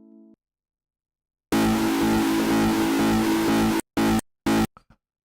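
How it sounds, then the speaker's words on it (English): Delay effect from a self-made audio plugin: a loud, dense tonal burst of about two seconds, then three short repeating echoes that cut off abruptly and fade away. "that's not really what I'm looking for in my delay sound."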